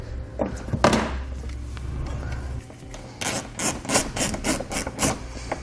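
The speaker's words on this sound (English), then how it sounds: "Then we'll take our trim panel tool or screwdriver, and we're going to have a plastic fastener we need to remove here." Plastic push-pin fastener pried out with a trim panel tool on a 2018 vehicle's front fascia, close scraping and rasping with a few sharp clicks, then a run of quick rhythmic scratchy strokes.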